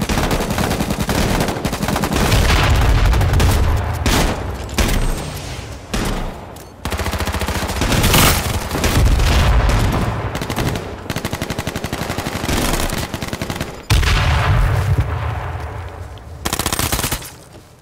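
Rapid automatic gunfire from the H1Z1 battle royale video game, loud and near, in dense sustained bursts with brief gaps between volleys.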